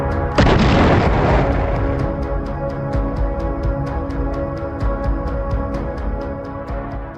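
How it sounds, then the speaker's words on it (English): Secondary explosions from cooking munitions on a battlefield after a drone strike on an ammunition supply truck convoy: one heavy boom opens, then a rolling, rumbling roar runs under a steady series of sharp bangs and pops. "secondary explosions from cooking munitions could still be heard, echoing like distant thunder across the scorched field"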